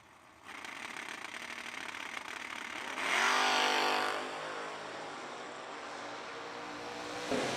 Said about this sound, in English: Nice wheelies by Bargo's Mustang. He's got the advantage